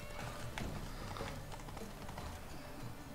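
Horse hooves pounding in a tournament horse race in The Witcher 3: Blood and Wine. The quick, uneven clip-clop of galloping runs steadily throughout, fairly quiet under a dense background of game noise.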